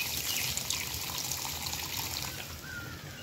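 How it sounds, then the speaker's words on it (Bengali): A little water poured into a pan of simmering papaya curry, a light splashing trickle up close, fairly quiet and steady, with no talking. "এবার এইখানে দিয়ে দিব একটু জল।"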